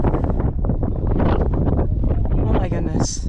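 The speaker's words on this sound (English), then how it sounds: "The wind is pounding quite strong" Strong wind at Arches National Park buffets the microphone with loud, steady roaring gusts, close and continuous, while a voice speaks over it.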